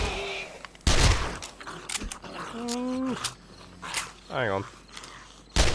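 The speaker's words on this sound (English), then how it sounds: "Two shots of the SMG and he's dead." SMG fire in the video game 7 Days to Die, a couple of sharp loud bursts mixed with game mechanism clatter and creaking, while someone speaks briefly.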